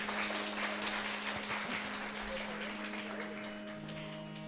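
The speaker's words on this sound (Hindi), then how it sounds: "तो फिर से एक बार तालियां हो जाए" An audience at a bhajan concert claps in a dense, steady patter that holds for the whole stretch, with a faint sustained musical hum running underneath.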